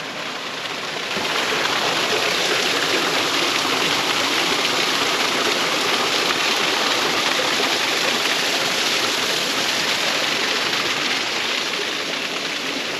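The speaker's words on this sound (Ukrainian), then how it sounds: "Зараз я вам покажу ще такий водопад, можна сказати." A small waterfall in a frozen winter stream gives a continuous, loud rushing splash close by. A quieter opening second is followed by a steady roar with no talking.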